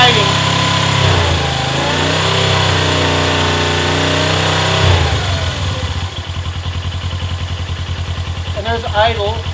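A Suzuki GS500 motorcycle engine held at a steady high rev, a loud sustained drone that drops off and settles into a rough, pulsing idle.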